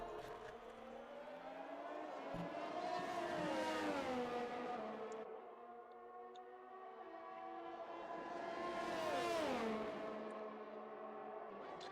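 Open-wheel race cars in a racing video game, an Austria round of an online league, whining past through a corner, two engines rising and falling in pitch as they accelerate, downshift and pass close.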